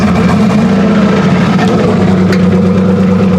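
Loud, close car engine held at a steady high rev as the driver presses the gas, a constant droning roar with no talk.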